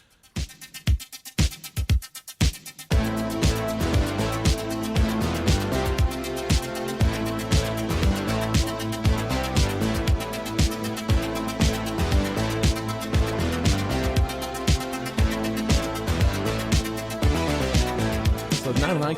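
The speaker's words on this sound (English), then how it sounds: "which was Roger Linn's fully programmable 8-bit drum machine" Programmed LinnDrum drum machine beat on a synth-pop record: sparse crisp hits at first, then a full loud steady rhythmic pattern with synth backing running throughout.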